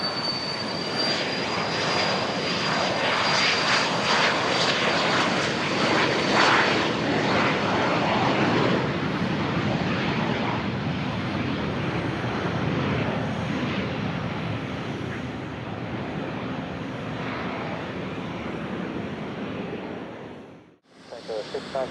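A private jet roars loudly at Van Nuys Airport, a sustained broadband engine rush with a high whine that swells and slowly fades over about twenty seconds, with radio chatter faintly underneath.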